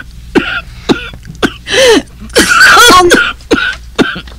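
A woman coughs in several short, harsh bursts spread through the moment, close and loud, with a few spoken words mixed in between.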